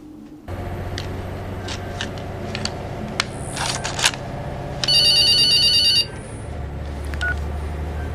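A telephone rings once in a steady electronic trill lasting about a second, preceded by scattered clicks and soft tapping in a quiet room, with no talking.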